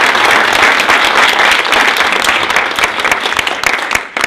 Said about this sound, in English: I'd like to give our panel a big round of applause.